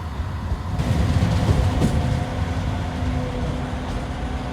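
A Manchester Metrolink tram rumbles along close by arriving at Cornbrook, a steady low mechanical drone with a faint metallic hum and light rattling.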